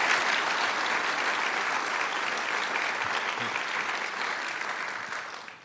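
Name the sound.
audience applause at oath of office ceremony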